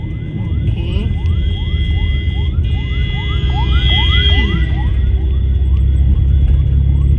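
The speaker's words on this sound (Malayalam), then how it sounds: "ഒരു ആംബുലൻസ് വരുന്നുണ്ട്, വെയിറ്റ് ചെയ്തു" An ambulance's wailing siren sweeps up and down repeatedly over steady traffic rumble, staying loud throughout as it passes nearby.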